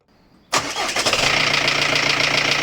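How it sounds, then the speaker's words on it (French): A Peugeot 306 engine with its timing belt set one tooth off cranks and starts abruptly after a short quiet moment, then settles into a loud, close, rough steady idle. "Et ça sonne quand la distribution est décalée d'une dent."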